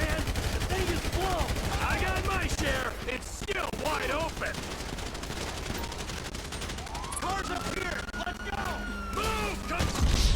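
Rapid bursts of automatic gunfire crackle through a car-stealing video game, loud and dense with sharp repeated shots, while someone speaks over the shooting and the game's engine noise.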